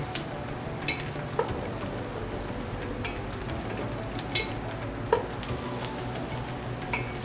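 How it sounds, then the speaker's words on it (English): Chanterelle and cremini mushrooms sauté in a pan at a cooking event, giving a steady, moderate sizzle with occasional light clicks and stirring scrapes, no talking. "And then we're just gonna saute those a little bit."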